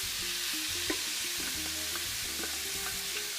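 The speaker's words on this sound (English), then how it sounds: "We're just gonna let these saute down in the butter until we see them sweat." Vegetables sautéing in foaming butter in a platinum cookware pan for cornbread stuffing, a steady close sizzle with light stirring clicks and a tonal hum underneath.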